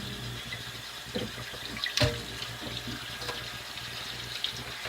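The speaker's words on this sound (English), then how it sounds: "Use cold water to rinse it off." Cold tap water runs steadily into a sink, with a few soft splashes and knocks as pork is rinsed under the stream.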